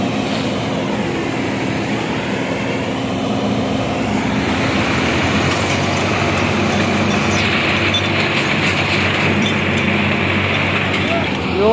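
Two tractors strain to pull a combine harvester stuck in deep mud, a loud, steady engine roar and rumble that holds throughout with a brighter, harsher tone in the second half.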